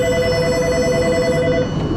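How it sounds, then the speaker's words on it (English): A telephone ringing in a car repair shop, a steady electronic trill that is loud and continuous across the whole moment, with no talking over it. "the phone's ringing"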